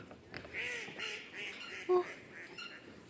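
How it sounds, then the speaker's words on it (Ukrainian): Ducks quack several times along a river beneath a suspension bridge in a town, moderately near, over steady outdoor background noise. "качечки."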